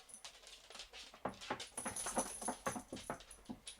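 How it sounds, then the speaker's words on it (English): A dog whimpering quietly indoors, a string of soft, uneven whines and snuffly yips close by at low volume. "Oh, doggy."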